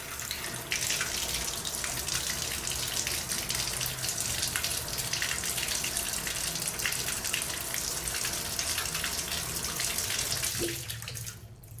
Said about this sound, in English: It looks like it's draining now